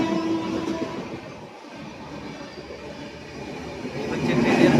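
A passenger train between Panskura and Tamluk in West Bengal rumbles steadily from inside the carriage, a continuous low roar of wheels and rattling coach that swells slightly toward the end.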